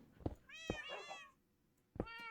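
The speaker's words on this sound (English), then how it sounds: "I can hear the cats above me" Cats in a video game map meow several times in drawn-out, tonal cries, one after another, with a pause before another meow, moderately close over a quiet background.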